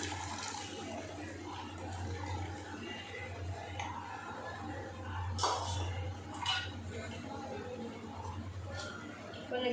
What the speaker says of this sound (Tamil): புளி கரைச்சிட்டேன் இப்போ ஊற்றிக்கலாம்